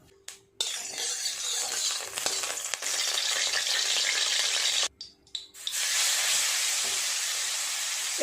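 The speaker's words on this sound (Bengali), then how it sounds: "কড়াই গরম হয়ে গেছে, চিংড়ি মাছগুলো আগে ভাজা করে নেব।" Prawns fry in hot oil in a wok, giving a loud, steady sizzle with no talking. The sizzle cuts out abruptly twice and then resumes at full strength.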